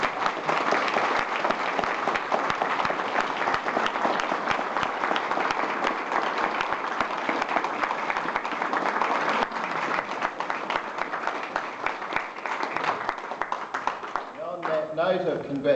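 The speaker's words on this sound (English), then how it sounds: "ask you all to join in suitably sustained applause" Sustained audience applause at a book launch, dense steady clapping from a crowd for about fifteen seconds, tapering toward the end as the clapping thins out.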